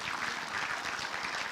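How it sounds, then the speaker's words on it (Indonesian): Faint applause rises from a church congregation during a service, a soft, even wash of many hands clapping at a distance. "Kita beri tepuk tangan."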